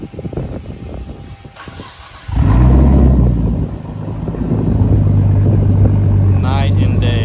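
A Nissan Skyline R34 with a Tomei exhaust cranks and fires up, then settles into a loud, deep, burbling idle close by. Voices talk faintly before the start.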